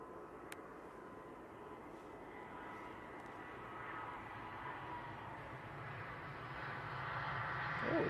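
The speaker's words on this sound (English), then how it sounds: "There's a prop I can see that's just coming over the coast." A propeller aircraft flies near Manchester Airport by the coast, its steady engine drone heard from a distance and slowly growing louder toward the end.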